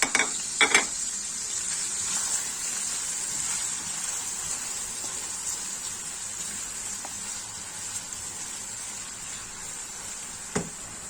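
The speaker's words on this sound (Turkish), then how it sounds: "Soğanlarım da biraz kavruldu." Two chopped medium onions sauté in a pan for a meat and orzo pilaf, giving a steady, close hiss of sizzling with a few sharp clinks of the utensil near the start and once near the end, no voices.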